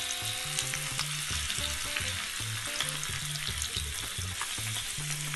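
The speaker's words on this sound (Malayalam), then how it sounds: "മീനെല്ലാം നന്നായി ഞാനൊന്ന് വറുത്തിട്ട് കൊടുത്തിട്ടുണ്ട്" River fish fries in a pan with a continuous moderate sizzle, punctuated by regular clinks and scrapes of stirring, no voices.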